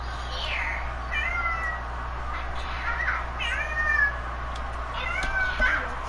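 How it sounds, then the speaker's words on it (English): A cat meows several times in separate, rising and falling calls, fairly close, over a low steady background hum. "Yeah, cat."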